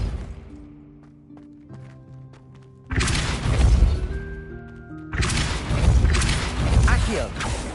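The Depulso force-push spell from the video game Hogwarts Legacy fires twice, each cast a loud booming blast with crashing, rumbling debris that lingers for a couple of seconds after a quieter stretch of tonal game ambience.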